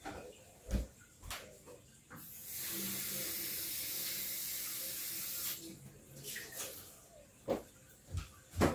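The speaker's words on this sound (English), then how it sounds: "I'm just going to rinse this off with tap water" Sour leaves rinsed under running tap water for Samoan cooking, a steady hissing stream lasting several seconds between intermittent clunks and handling knocks, fairly close and soft.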